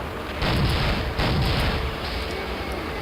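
Two heavy, booming magnum gunshots in Soldier of Fortune about a second apart, loud and close, each with a deep rumbling tail over a steady noisy background.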